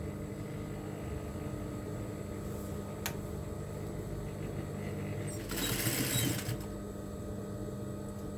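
A sewing machine stitches a fabric cap, folded and hemmed, running as a low steady mechanical hum with a brief louder burst of fast stitching partway through.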